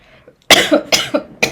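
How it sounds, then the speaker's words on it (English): A person coughs close to the microphone in a quick burst of four harsh coughs, with a faint throat sound just before. "the coughing is starting again."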